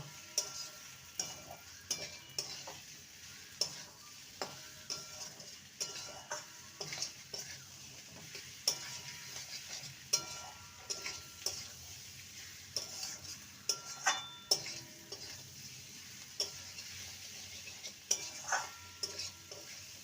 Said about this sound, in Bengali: এবার ভেজে রাখা সোয়াবিনটা দিয়ে দেবো ভালো মতন করে সমস্ত কিছু আবারও কষিয়ে নেব